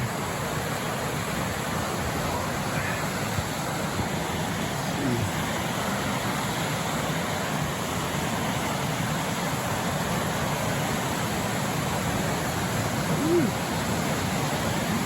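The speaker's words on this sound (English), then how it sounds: "Must be coming up to a waterfall. Hear the water." A steady, broad rush of water from a waterfall in the Wallowas fills the whole stretch, constant and fairly loud, with no voices over it.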